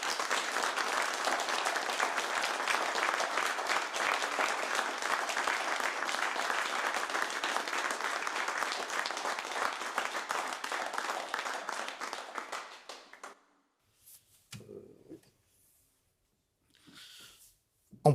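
Audience at a municipal New Year's greetings ceremony in Boissy-Saint-Léger applauds warmly, a dense, steady round of clapping that lasts about thirteen seconds before cutting off into near silence with a few faint rustles.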